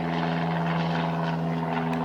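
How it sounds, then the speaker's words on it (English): An airplane drones steadily overhead near an airport, a loud, continuous engine hum that fills the whole stretch without letting up. "a little bit surprised about the airplane there"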